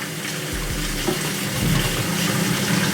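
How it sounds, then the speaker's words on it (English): Hot water running steadily from a tap on a system with a Vaillant boiler flow turbine, a continuous broadband rush of water that holds level and close for the whole stretch. "with the hot water running"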